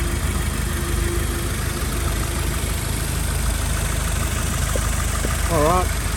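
2015 Subaru WRX Premium AWD sedan engine idling, a steady low hum heard from beneath the engine bay, continuous and moderately loud, with someone speaking over it.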